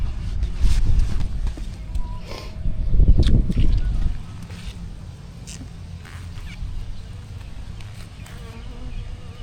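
Honey bees buzz steadily around an open hive during an inspection, a close, continuous drone that swells louder early on, with faint handling noises underneath.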